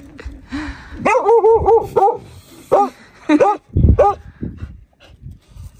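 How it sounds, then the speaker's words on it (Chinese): A puppy at a high-altitude hot spring campsite gives a run of short, high yips and barks in quick bursts, close by, with small whimpers between them. "小狗狗也下来了"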